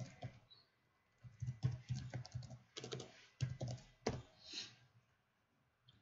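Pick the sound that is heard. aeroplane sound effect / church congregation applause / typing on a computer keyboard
typing on a computer keyboard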